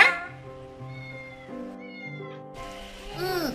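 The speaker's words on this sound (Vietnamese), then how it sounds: "Em đặt cho con mèo nhỏ một cái tên nghe rất hay, Miêu Miêu" A small cat in an animated Buddhist film meows several times, a high, sliding mew near the start and a stronger one toward the end, set over steady soft background music.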